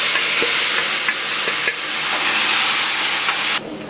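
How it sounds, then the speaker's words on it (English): Shrimp in jerk sauce sizzle hard in a hot pan, a loud, dense, hissing fry held close with faint stirring taps, ending abruptly. "Then I'm going to add my shrimp in."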